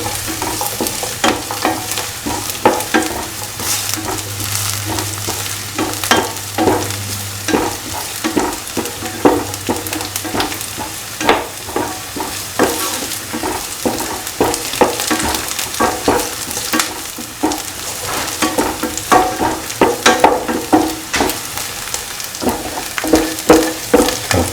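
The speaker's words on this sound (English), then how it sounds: "Salt and mix the garlic, the onion and the shallots." Garlic, onion and shallots frying in a pan with salt, stirred with a utensil: steady close sizzle under repeated sharp scraping and clinking strokes throughout, with no talking.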